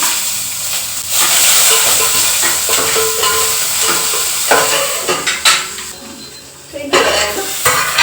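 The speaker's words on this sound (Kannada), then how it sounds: "ಇವಾಗ ಈರುಳ್ಳಿ ಬೆಳ್ಳುಳ್ಳಿ ಜಜ್ಜಿಟ್ಟು ಹಾಕ್ತಾ ಇದ್ದೀನಿ" Crushed onion and garlic fry in hot oil with a loud, crackling sizzle, broken by metal scrapes and clanks of a spoon stirring in the pan.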